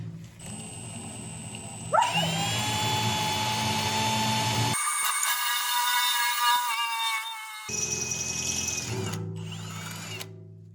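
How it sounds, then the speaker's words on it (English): A power drill whines loudly, changing pitch as it bores into thick steel, stopping briefly before starting again, with grinding tones of the bit cutting steel. "Get our drill and we'll drill the first one there."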